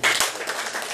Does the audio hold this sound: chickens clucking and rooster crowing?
no